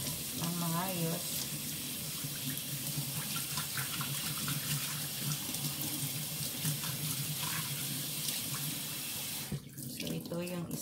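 Small silver fish being rinsed under a running kitchen tap, a steady wash of flowing water that continues throughout at moderate level, with faint background noise.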